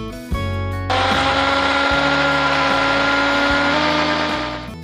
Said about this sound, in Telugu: నీళ్లు వేసుకున్న తర్వాత మూత పెట్టుకొని మిక్సీ పట్టుకోవాలి